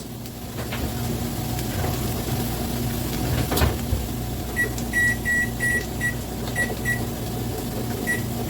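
A kitchen oven timer gives a series of short, clear electronic beeps in irregular bursts while it is set, over a steady hum of background noise, with no talking.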